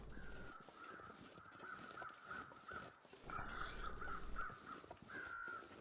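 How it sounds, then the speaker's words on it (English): Crows in the survival game The Long Dark caw repeatedly in short rhythmic series over a faint wind-like ambience, moderately distant and calm. "There's a second set of crows up here."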